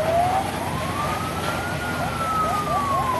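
Fire truck siren wailing as the engine responds to a blaze in Layac, Dinalupihan, Bataan, a single rising-and-falling wail over traffic rumble and crowd background, moderately close.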